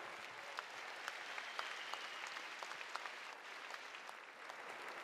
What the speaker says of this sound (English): Clap it up one time, one last time,